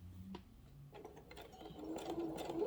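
A sewing machine runs a straight forward stitch through vinyl and cotton tote-bag fabric, a fast mechanical whirr that starts softly and builds louder over a few seconds.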